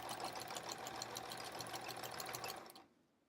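A sewing machine stitches rows across a sampler quilt in a steady, continuous rapid whir, close and fairly loud, then stops abruptly near the end, leaving near silence.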